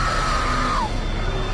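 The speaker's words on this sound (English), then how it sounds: "This actress has got a fabulous scream" An actress in a Smallville dream sequence lets out a loud, sustained scream that slides downward and cuts off, followed by a fainter cry against a busy background.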